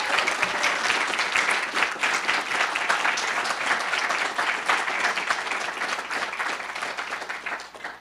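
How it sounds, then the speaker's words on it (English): Sustained audience applause for a dean at a literary journal launch reading, a thick, even wash of many hands clapping for about eight seconds that slowly thins toward the end, with no talk over it. "So if we could just give Karen a round of applause for everything they have done."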